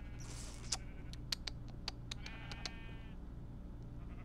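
Minecraft sheep bleat softly in a few short quavering calls, mixed with light clicks and game sounds over a low steady hum.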